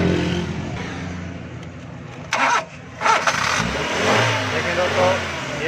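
A CNG-fuelled car engine cranks and catches after earlier trouble starting once filled with gas, then settles into a loud, steady idle with slight revving, while someone talks over it.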